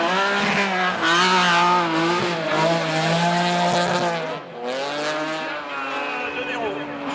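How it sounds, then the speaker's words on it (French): Trophée Andros ice-racing car on a track in Andorra, its engine pulling hard as it accelerates down a straight, a loud, close, rising harmonic whine with gear changes, running under steady commentary. "Accélération dans la ligne droite."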